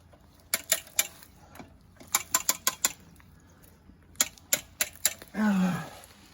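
Sharp metallic clicks of a tree jack's ratchet being cranked over on a felled tree, clustered bursts of close ticks with pauses, ending in a short creaking groan.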